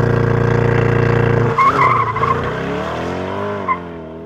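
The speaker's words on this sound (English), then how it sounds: "the V8 is really what makes the Corvette a Corvette, and you want to hear it" A 2020 Chevrolet Corvette Stingray 2LT V8 with the optional performance exhaust roars loudly and steadily, then the note breaks into a burst of tire squeal and shifting revs before settling into a smoother drone with a brief final blip.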